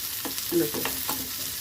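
Onion and green chilli fry in oil with mustard seeds, a brief close sizzle with a few soft scraping stirs.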